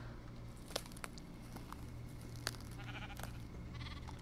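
Sheep in the Minecraft video game bleat in short, faint, scattered calls over a low steady hum, with a few soft taps and clicks between them.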